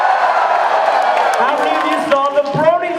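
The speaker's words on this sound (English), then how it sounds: "I love this crowd. They're so loud." Loud convention audience at BronyCon 2014 cheering and whooping, a dense crowd roar with voices rising over it and someone speaking near the end.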